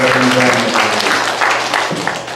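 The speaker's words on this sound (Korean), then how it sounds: "박수 한번 드리겠습니다" A church congregation applauds during a service, loud sustained clapping from many hands filling the room, with a voice briefly heard under it.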